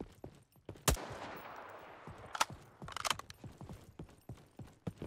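A few muffled, suppressed-sounding M4 rifle shots in a free first-person shooter, spaced irregularly over soft mechanical clicks and low in-game ambience.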